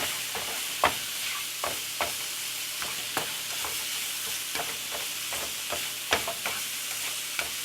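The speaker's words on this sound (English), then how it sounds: "I'm going to throw in about a tablespoon and a half of garlic. And give it a stir." Garlic sizzling in a hot pan with zucchini, a steady close hiss of frying punctuated by regular scrapes and taps of a spoon as it is stirred, with no one talking.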